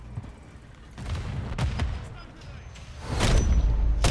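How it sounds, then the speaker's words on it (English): Sniper shots in MW3 arrive as a few sharp, separate cracks and thumps amid busy game noise, with a louder heavy blast near the end. A player speaks briefly over it. "You can get sniped, watch."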